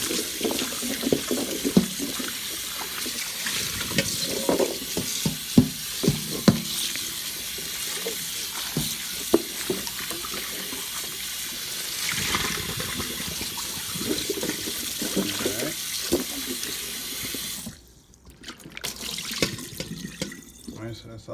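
Tap water runs steadily into a sink as a whole coconut is washed underneath, a continuous close rush with splashing that cuts off near the end, leaving quieter handling sounds.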